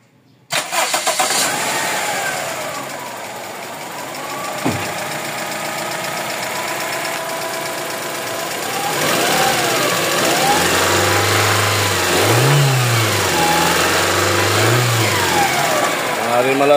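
A Toyota 4A-FE car engine with many issues, including the ECU, cranks and catches, then idles with a knocking rumble before being revved in several loud rising and falling bursts near the end; people talk over it.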